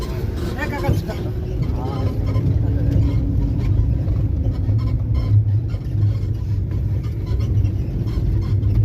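A bus engine rumbling nearby at a boat landing on Chalan Beel, a steady low drone through the whole clip with people talking over it.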